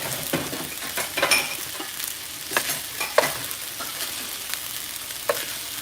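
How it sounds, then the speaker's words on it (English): Hibachi-style meat sizzles steadily in a hot skillet at home, with repeated scraping and stirring clicks of a utensil against the pan every second or so, close and fairly quiet, with no talking. "So when the meat's done, I'm going to go ahead and sizzle this down."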